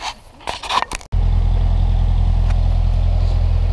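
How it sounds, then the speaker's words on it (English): A tractor engine starts up and settles into a loud, steady, low idling rumble at close range after a few brief knocks and clatters at the start. "All right, so I got the tractor."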